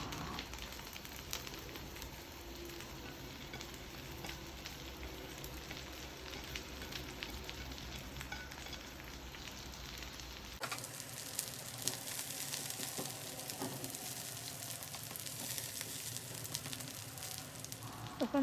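Jute leaf greens sizzle and crackle in a hot pan with onion and garlic, a continuous hiss that grows brighter and louder partway through, with no voices.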